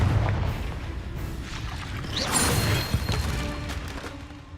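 Confringo spell blasts in the video game Hogwarts Legacy, heard as several booming impacts with crackling debris, one heavier burst near the middle and a sharp hit just after, over continuous game noise.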